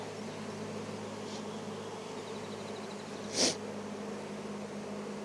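Honey bees buzz steadily and low around hive frames during a summer hive inspection, a continuous hum with one brief louder buzz as a bee passes close.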